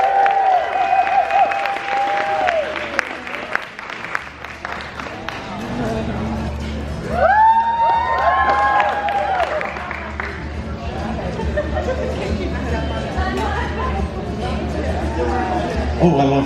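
Convention crowd at a Wild Wild West steampunk con costume contest applauds and cheers a contestant, steady clapping and crowd noise running throughout with voices speaking over it at times.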